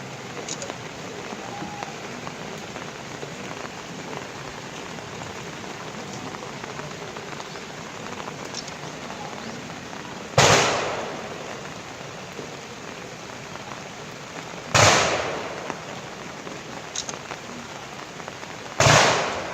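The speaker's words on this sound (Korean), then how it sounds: "조총은 3회 발사됩니다." Three sharp rifle volleys fired by a military honor guard at an outdoor presidential memorial ceremony in Korea, spaced a few seconds apart over a steady hiss of rain-like background noise.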